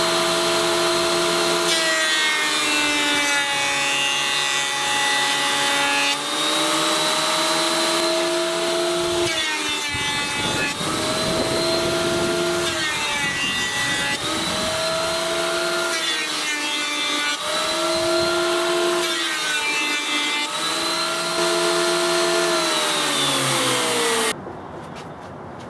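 A wood planer runs steadily, flattening and truing the faces of a board, with a loud continuous whine and rumble that rises and falls slightly as the stock feeds through, cutting off abruptly near the end.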